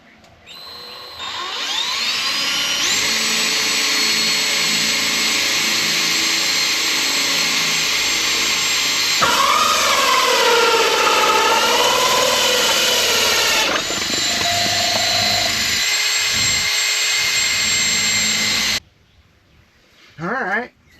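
A 3-inch hole saw on a power drill cuts a hole during a mini split install, whining loudly and steadily for about eighteen seconds with a pitch dip partway through, then stopping abruptly. Brief sounds follow.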